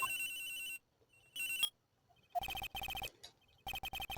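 A cell phone rings in the Phoenix Wright Ace Attorney video game, a bright electronic ringtone sounding in repeated bursts separated by brief silences, clear and alone.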